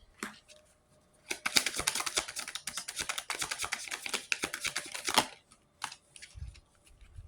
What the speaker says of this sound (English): Let me get the cards out for you.